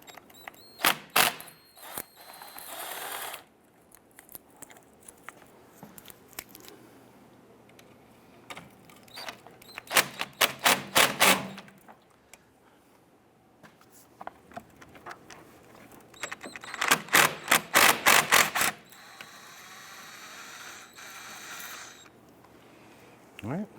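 A ratchet spins in quick clicking bursts while loosening and removing the bolts on a Chrysler 300 A/C condenser, three close rapid clatters separated by quiet pauses and small handling noises.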